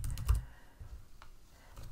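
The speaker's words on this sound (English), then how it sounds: "if I just click on option one and start typing in Monday" Soft, sparse keystrokes on a computer keyboard while typing an answer option into Microsoft Forms, a quick cluster of clicks at the start and a few faint taps afterward in a quiet room.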